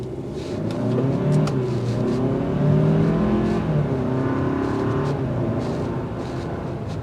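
A 2024 Hyundai Santa Fe XRT with a dual wet clutch automatic accelerates in sport mode, its engine rising in pitch through gear changes, heard steady and loud from inside the cabin.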